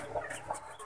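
Chickens cluck in a short, busy burst of clucks at a Minangkabau comedy skit, fairly close and moderately loud, with no talk over them.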